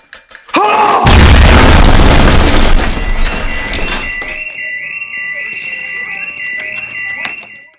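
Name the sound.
explosion from Breaking Bad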